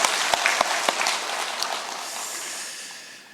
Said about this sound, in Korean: 우리 수고하셨다고 서로 박수로 한번 격려하겠습니다